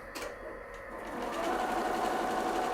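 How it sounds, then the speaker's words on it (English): A Halo-100 embroidery machine moves its head across, selects a needle and starts stitching, giving a steady, close mechanical whir that builds slightly louder and holds, with no talk. "When I hit the go button, it will now move across, select the appropriate needle, and start stitching."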